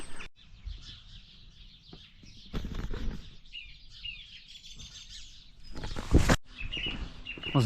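Small birds chirp and call repeatedly around a rural churchyard in mid Wales, a scattered chorus of tweets at moderate distance with faint rustling and a louder close burst near the end.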